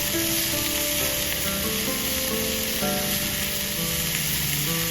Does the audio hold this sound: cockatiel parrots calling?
no